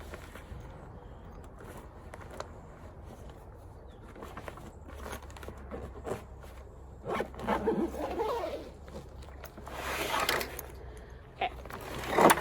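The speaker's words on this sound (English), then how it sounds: "So let's try and zip it up" A zipper drawn along a fabric mermaid tail bag folded in half, several faint scratchy pulls with quiet rustling and handling noises that grow louder near the end.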